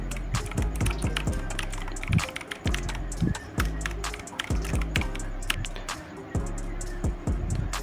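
Steady typing of an Instagram ID name on a keyboard, a close run of sharp, irregular taps and clacks continuing throughout with brief gaps and no voices.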